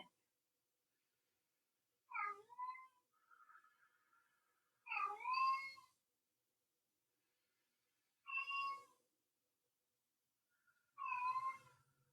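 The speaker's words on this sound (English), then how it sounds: "I'm going to go try to get my cat to stop crying." A pet cat cries and meows indoors in a quiet room during a yoga session, giving four separate drawn-out meows spaced a few seconds apart, with brief soft sounds between and silence around them.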